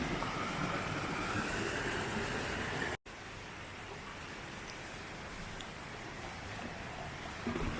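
Clear water running down clean slate rock near a hidden waterfall in Wales, a steady broadband rush close by, with a brief dropout partway before the flow resumes at a slightly lower level.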